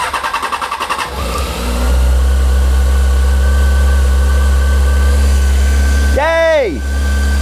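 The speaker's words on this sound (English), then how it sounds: "I'm gonna just let it idle for a second." A Honda CBR600F4i motorcycle engine cranks with a rhythmic starter whir, then catches and settles into a steady, loud idle, with a brief blip of revving near the end.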